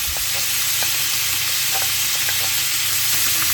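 Bacon and onion frying over low heat in a pan, a steady close sizzle with light crackles and occasional stirring scrapes running without pause.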